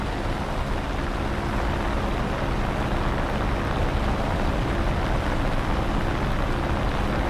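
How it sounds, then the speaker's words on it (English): A World War II-era FR-1 Fireball fighter plane's engine roars in War Thunder, a steady, dense drone that holds at an even level throughout with no talk. "I can hear the screaming engine."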